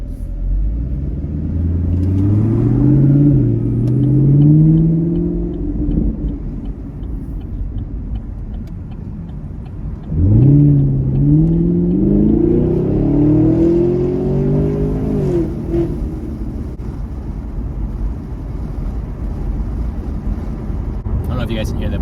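A 2017 Chevy Camaro 1SS V8 rumbles while driving, climbing through two strong acceleration pulls with rising engine tone, then easing into a low cruising drone heard from inside the car.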